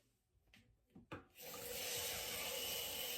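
Water pouring into a bowl to wash 1.5 cups of rice, a few soft knocks and rustles first, then a loud, steady rush of running water that continues to the end.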